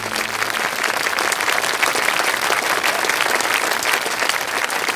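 Steady audience applause at a short film event, dense and continuous throughout, many hands clapping at once with no voices standing out above it.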